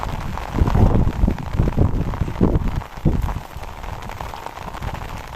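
Heavy monsoon rain pours down in a loud, continuous rush close by, with no voices.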